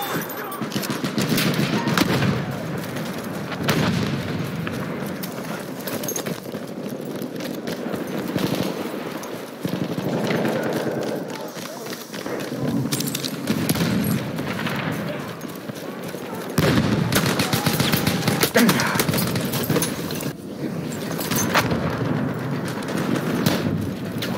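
Gunfire in a Battlefield 1 Domination match, with dense overlapping rifle and machine-gun shots crackling continuously at close range, mixed with game battle noise and in-game voices.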